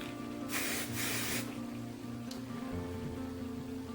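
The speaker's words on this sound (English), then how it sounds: "I'm gonna spray that down." Two quick bursts of hairspray hissing from an aerosol can close by, followed by a faint shorter puff, over a quiet background.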